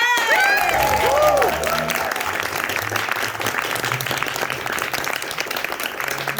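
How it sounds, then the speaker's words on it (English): An audience at an improv comedy soiree breaks into sustained, even clapping and some cheering, with a few whoops and a voice rising briefly at the start over the crowd. "So big round of applause for deep fried."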